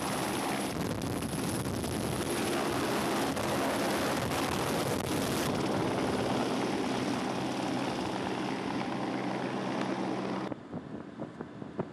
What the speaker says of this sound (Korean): 헬기까지 등장했습니다.